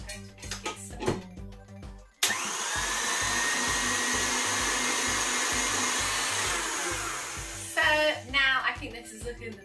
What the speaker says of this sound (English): you do need to whisk it for quite a while to get it to like peak pipefulness. So I'm going to whisk it some more.